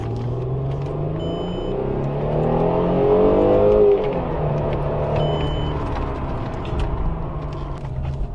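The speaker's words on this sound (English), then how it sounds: "I'm gonna hit the gas right here." A car on a small street in Tijuana, Mexico, accelerates with a rising engine rumble that swells toward the middle and then eases into a steady drone, heard from inside the vehicle.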